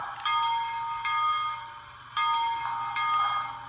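A Bachmann HO scale 4-4-0 model locomotive's bell clangs repeatedly in a steady, ringing rhythm, bright and metallic, with about four strikes and no voices.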